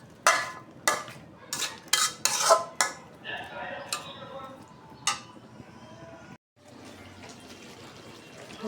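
Vegetables being stir-fried in a pot: a run of sharp utensil scrapes and clanks against the metal, loud and close, with a softer sizzle between strokes and a brief pause near the end.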